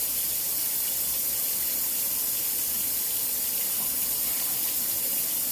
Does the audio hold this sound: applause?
no